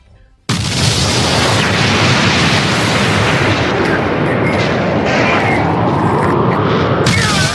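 A horrible, strong explosion bursts in suddenly and loud, then rolls on as a sustained, brutal rumbling roar for several seconds, as if heard through a phone speaker.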